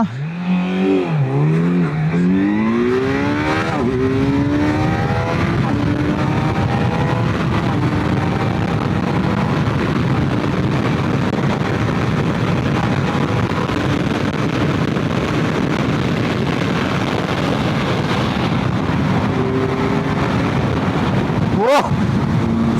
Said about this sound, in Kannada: Let's ride this beast Kawasaki Z900. Performance ನೋಡೋಣ.